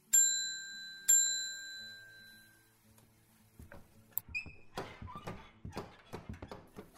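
A desk bell rung twice, two bright metallic dings with long ringing decay, followed by rustling, shuffling and clattering handling noises.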